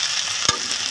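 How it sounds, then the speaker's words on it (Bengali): A paste of chopped tomato, garlic, chili, raw cumin and ginger sautés in a pan, giving a close, steady sizzle with a single clack of a spoon stirring midway. "এখন টমাটো কুচি দিয়ে দেবো, রসুন বাটা, লঙ্কা বাটা, কাঁচা জিরা বাটা আর আদা বাটা দিয়ে আমি এখন কষিয়ে নেব।"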